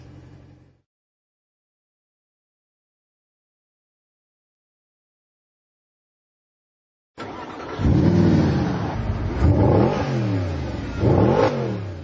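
A Mercedes SLS AMG accelerates hard away from a standstill on Mulholland in Los Angeles, its engine roaring loudly and rising through the revs, with no one talking over it, after a brief low rumble and long silence.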